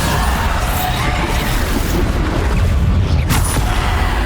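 Bombarda blasting spell explosions in the Hogwarts Legacy video game: heavy booming rumble under a dense wall of continuous combat noise, with a sharper burst toward the end.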